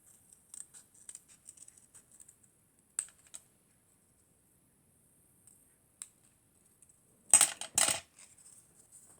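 Scissors snip through paper while cutting out an old-fashioned moustache shape for a Father's Day card, with small scattered clicks followed by a closer, louder burst of cutting near the end.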